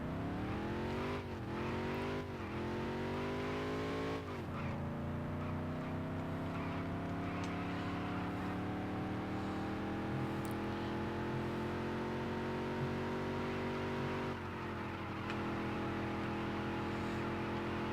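A NASCAR race car engine revs hard through several gear shifts during a qualifying lap in the racing game NASCAR Dirt to Daytona, then settles into a loud, sustained drone with a couple of brief dips, with no talk over it.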